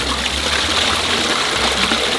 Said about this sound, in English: Shall we try to flush it? Flushing time, boys.